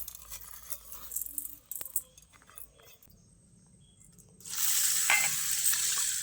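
Red lentils being rubbed by hand in water, with soft rattling and sloshing, then a loud steady rush of water for the last couple of seconds.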